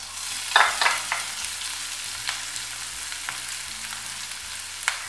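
Chopped onion and chilli hitting hot oil in a pan for veg Manchurian, a loud burst of sizzling that settles into steady frying crackle with a few stirring clatters, close and alone.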